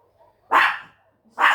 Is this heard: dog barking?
yes